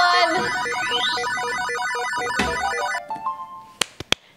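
A claw machine plays its electronic prize-win jingle: a loud, busy melodic chime with rising tones and rapid repeated notes, followed by several short sharp clicks and knocks near the end.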